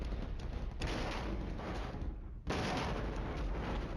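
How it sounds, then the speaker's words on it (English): Mortar shells land in the Flashpoint Campaigns war game as a dense, continuous rumble of blasts and crackle that drops off briefly, then resumes at full strength, steady and loud with no talking. "15 minutes of game time, and the mortars fall"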